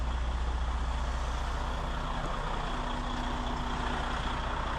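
A truck or heavy vehicle pulls out onto a roadway, its engine a steady, loud, low rumble with a faint tonal hum running throughout, no talking.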